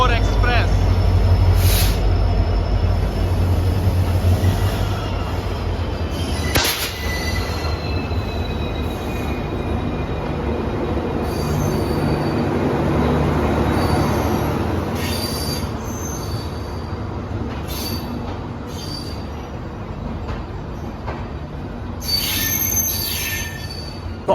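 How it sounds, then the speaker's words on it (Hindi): Mandore Express with a WDP4 diesel locomotive pulling into a station: loud, steady rumble of rolling rail cars with high wheel squeal and brake screeches, while someone talks over the din. "WWDP4 के साथ आ गई है अपनी मंडोर एक्सप्रेस"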